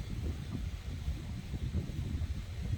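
Outdoor wind gusting across the microphone, a continuous low rumbling buffet with fluctuating intensity and no speech.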